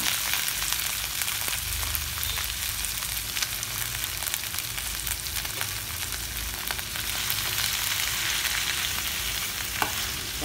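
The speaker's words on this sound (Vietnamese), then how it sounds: "Giờ mình cho dưa cải chua vô xào nha các bạn." Pickled mustard greens are stir-fried with golden garlic and a little lard in a hot pan, giving a loud, steady, dense sizzle with faint scrapes of stirring throughout and no talking.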